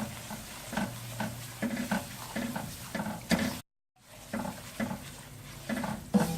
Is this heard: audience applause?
no